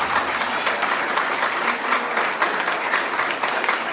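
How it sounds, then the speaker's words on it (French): A church congregation applauds in steady, dense clapping that fills the space at a constant level, with no talk over it. "Mon Dieu, vous pouvez le Seigneur applaudir ça"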